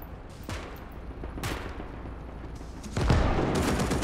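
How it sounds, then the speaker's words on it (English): In the World War II multiplayer game Gates of Hell, a tank explodes amid gunfire: loud cracking shots and a heavy blast rumble over constant battlefield noise, without voices. "random tank explosion, that's cool."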